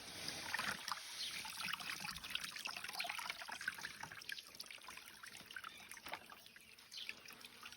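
Liquid cow manure drains steadily out of a tied bag in a plant nursery, making a faint continuous trickle and dribble with small splashy spatters and no voices.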